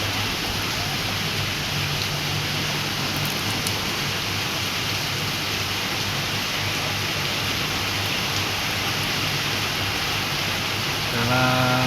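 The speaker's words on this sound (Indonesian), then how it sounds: "Bekasi hari ini hujan lebat guys." Heavy rain pours steadily in Bekasi, a dense unbroken hiss of downpour with no letup, close and constant throughout.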